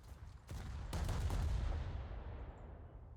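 The USS Pensacola's guns fire a salvo in a naval warfare game: two heavy booming blasts close together, then a long rumbling roar that slowly fades.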